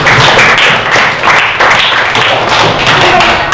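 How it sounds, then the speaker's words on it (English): Children clapping together in an Indonesian primary school English class, a dense, steady patter of many hands filling the room at close range, with scattered thumps and taps in the mix. "Give applause for Laras."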